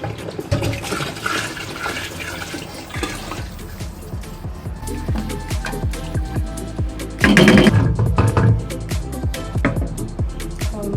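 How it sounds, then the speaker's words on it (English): Water pours and splashes steadily into a cooking pot of Nigerian stew, a continuous rushing flow that surges louder for a moment near the end. "I want to add the mixed water."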